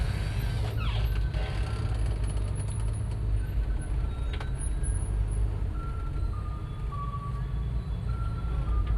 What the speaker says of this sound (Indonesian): Bukit Tingginya sudah mulai macet